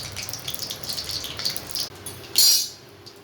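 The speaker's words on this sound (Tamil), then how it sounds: "கடுகு வெடிச்சிருச்சு." Small sharp pops and crackles of mustard seeds spatter sporadically in hot oil, faint at first, then a louder sizzling burst near the end.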